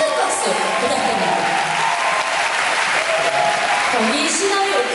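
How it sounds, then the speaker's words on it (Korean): An audience applauds steadily after a curtain call for a Korean traditional-music orchestra performance, a dense, continuous clapping that stays loud and even throughout. "큰 박수 부탁드립니다"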